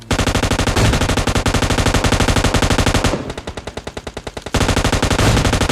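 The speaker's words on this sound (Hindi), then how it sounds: "सामने से फायरिंग हो रही है" Rapid automatic gunfire in a battle royale video game, loud continuous bursts that drop briefly to a lighter, more spaced rattle before the heavy stream resumes; no talking.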